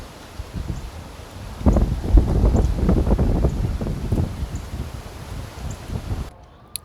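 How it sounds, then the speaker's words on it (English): Wind buffeting a microphone outdoors on a hot day comes as low, rumbling gusts that swell in the middle, roar close to the mic for several seconds, then die away to quiet. "I hope this wind isn't like killing the sound quality here."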